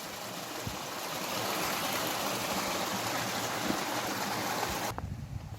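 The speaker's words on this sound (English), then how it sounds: "See the water streaming" Water streams and tumbles at Katha Shawa waterfall near Muzaffarabad, Kashmir, a steady broadband rush close by that cuts off abruptly near the end.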